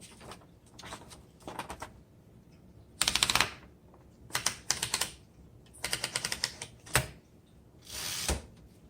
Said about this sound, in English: Let's go ahead and load this up and start typing.